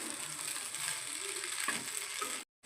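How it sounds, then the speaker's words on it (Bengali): Potato and cauliflower pieces fry in a pan with a soft, even sizzle and light stirring scrapes, fairly quiet throughout, then cut off abruptly near the end. "আলু ফুলকপি সবই ভালো মতো ভাজা হয়ে গেছে।"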